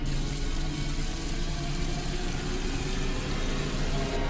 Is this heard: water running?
yes